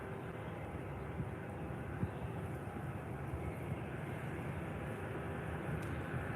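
A Lufthansa airliner departs Faro Airport on a Frankfurt flight, its jet engines a steady, broad roar that holds evenly throughout at moderate distance, with no talk over it.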